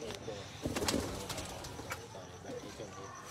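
Domestic pigeon of a prized breeder's flock, soft low cooing heard faintly amid outdoor background noise and some rustling, close by but quiet.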